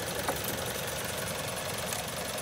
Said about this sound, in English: idling in park